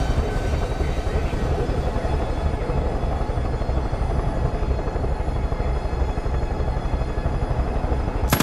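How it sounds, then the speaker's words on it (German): A helicopter in the video game Far Cry 5 gives off a steady, loud rotor drone with a thick rumbling low end, continuing without a break. "das ist ein Helikopter."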